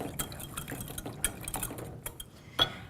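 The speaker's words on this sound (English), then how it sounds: "Whisk that in." A whisk clinks against a bowl while salt and pepper are beaten into a homemade vinaigrette, a close run of sharp irregular metallic taps and scrapes with light liquid swishing, no voices.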